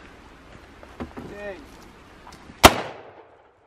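A single sharp gunshot fired at zombie targets on an outdoor range, loud and close with a short ringing decay, after brief speech.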